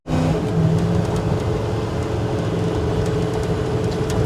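A 1968 Chevy with an LS engine swap being driven, a steady loud engine and road drone heard from inside the cabin, continuous without speech.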